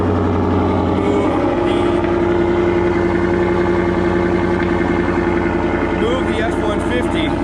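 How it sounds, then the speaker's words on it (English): A 2013 Shelby GT500 with a Corsa exhaust runs at a loud, steady, deep idle just after a cold start, rumbling continuously at close range while a person talks over it. "here's your cold start on a 2013 Shelby GT500"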